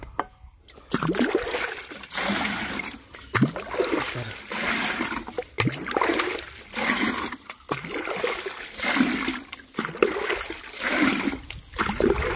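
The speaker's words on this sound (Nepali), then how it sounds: "यसमा पानी हाल्नुपर्ने छ।" Water is poured into a thick mixture in repeated splashing, trickling bursts of moderate loudness, with a person talking throughout.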